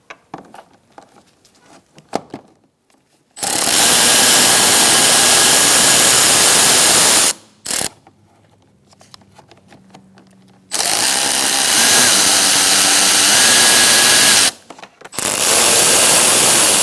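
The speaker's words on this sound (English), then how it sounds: "Using an 8mm socket, we're going to remove 4 bolts holding our airbox cover on." Two long loud bursts of a power tool driving an 8mm socket on the airbox cover bolts of a 2012-2018 Ford Focus, separated by quiet gaps with small clicks and handling sounds.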